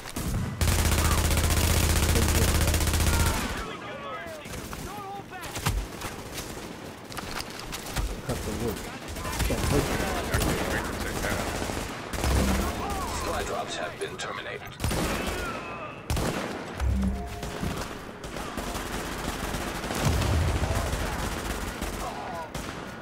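Gunfire in a video game, with dense shots and bursts through most of the stretch amid loud game effects, and voices coming and going underneath.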